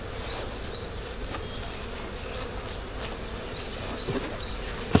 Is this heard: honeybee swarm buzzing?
yes